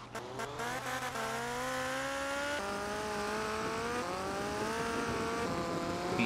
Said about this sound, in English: Yo, I'm driving so fast.